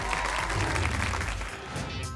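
A studio audience at the Ohio lottery game show Cash Explosion claps for the contestants, a dense, even roar of applause held steady for the whole moment.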